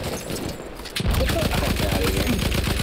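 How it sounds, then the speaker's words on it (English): Rapid gunfire rattles loudly in Battlefield 1 after a brief lull, a fast burst of repeated shots that runs steadily to the end amid game ambience. "I just shot completely over his head."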